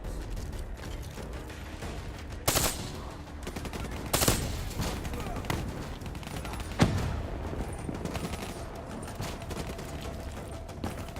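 Gunfire in the Call of Duty: Black Ops III campaign, with a few sharp, loud shots standing out above a continuous clattering mechanical bed, spaced irregularly across the stretch with no voices.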